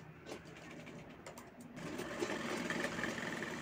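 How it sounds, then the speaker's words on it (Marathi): Sewing machine top-stitching a blouse, a steady close mechanical whir that picks up and grows louder partway through, running alone without talk. "टॉप स्टिच दाब टिप घ्यायची आहे."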